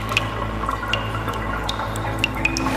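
Water drips in an underground Las Vegas drainage tunnel, scattered sharp drops falling at uneven intervals over a steady low hum and trickle, close and distinct.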